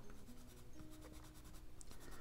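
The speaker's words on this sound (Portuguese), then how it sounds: "o lápis branco arrasta o pigmento da caneta" White colored pencil dragging over ballpoint pen ink on paper, a steady close scratchy rubbing of strokes with no voices, quiet throughout.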